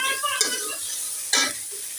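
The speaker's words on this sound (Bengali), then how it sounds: "ছোট চিংড়ি যতটুকু রান্না করবো ততটুকু তেলের পরে দিয়ে লবণ হলুদ দিয়ে সুন্দর করে ভেজে নিচ্ছি" Small shrimp frying in oil with salt and turmeric, giving a close, steady sizzle with two louder bursts of stirring or tossing in the pan.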